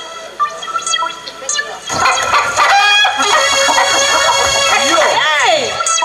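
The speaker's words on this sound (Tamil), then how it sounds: "செத்து போன கோழி என்னடா கையை உள்ள விட்டு பார்த்தா கத்துதே" A chicken clucks and squawks loudly in short, agitated bursts after a quieter start, close by, with people talking around it.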